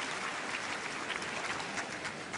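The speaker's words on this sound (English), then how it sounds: "People clapping." Spectators at an ATP Sydney quarterfinal tennis match clap in a steady, moderately distant patter that fills the whole moment without talk.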